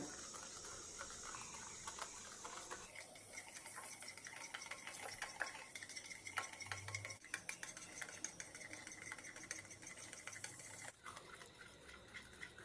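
Sugar is mixed for nankhatai dough in a soft, continuous scraping and stirring, with faint ticking clicks against the bowl, quiet and close throughout.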